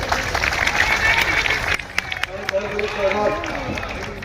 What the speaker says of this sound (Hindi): इससे ताली बहुत धीमी बजाई है